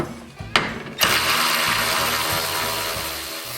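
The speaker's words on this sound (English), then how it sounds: "So now we remove those screws." A 7/16 socket ratchet backs out screws on a Toro CCR 3650 snowblower, with a couple of sharp clicks followed by a steady mechanical clatter close up, heard alone.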